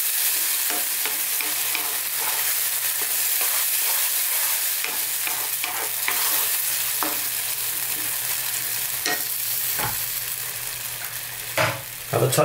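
Spice powders fry in a pan for an eggplant coconut masala, giving a loud, even hiss with light stirring scrapes and a few sharper knocks toward the end.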